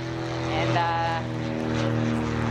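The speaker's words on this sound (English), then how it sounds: "airplane." A propeller airplane drones steadily overhead, its tonal engine hum swelling slightly midway, while a person talks over it.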